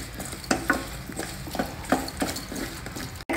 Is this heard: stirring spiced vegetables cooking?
yes